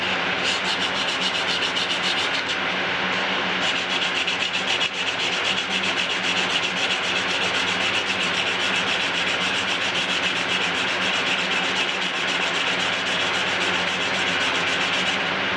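Steady hand sanding with sandpaper on a Bolens tractor part, a continuous dense scraping rub that holds the same pace and loudness from start to finish with no talking.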